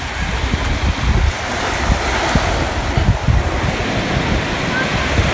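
Ocean waves wash onto a beach in Tenerife with a loud, continuous surf roar and heavy wind buffeting the microphone close by.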